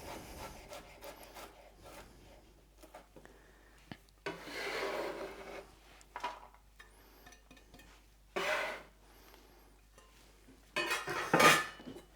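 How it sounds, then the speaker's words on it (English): Close knife chopping of garlic cloves on a board, irregular light taps with a few louder scraping bursts as the pieces are gathered, no talk. "let's just get the last of these cloves of garlic cut nice and fine"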